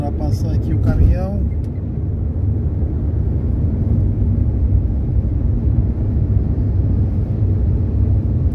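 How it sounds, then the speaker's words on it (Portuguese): A car overtakes a truck on a highway, heard from inside as a loud, steady engine and road rumble, with a person talking over it at the start. "Vamos ultrapassar aqui o caminhão."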